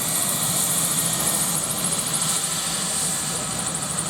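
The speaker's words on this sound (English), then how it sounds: "the next very, very distinctive aeroplane is now taken to the runway" A light aircraft engine at an airshow drones steadily as the plane taxis out toward the runway, a continuous close rumble with a fluttering propeller beat and no talk.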